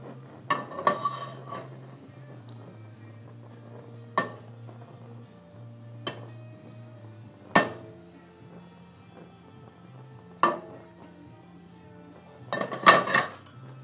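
Pasta with meat sauce stirred in a pot, heard as sparse, close metallic clinks and scrapes of a spoon against cookware at irregular intervals, with a low hum between them.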